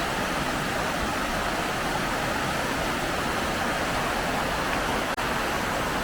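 The River Calder flows steadily beside a riverside path in autumn, a continuous broadband rush of moving water filling the clip evenly with no talk over it.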